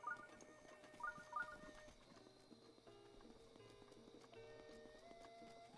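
Hooves clip-clop in short bursts from a horse in Zelda: Breath of the Wild, faint and game-like, layered with soft in-game ambient tones and a brief whinny-like sound, with no speech.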